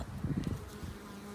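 Close, dense buzzing of honey bees at a beehive, a low droning hum with brief louder swells as insects pass near.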